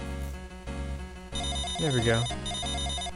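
A Final Fantasy IV poison damage effect gives a repeating electronic trill much like a ringing phone, played under a voice as he talks.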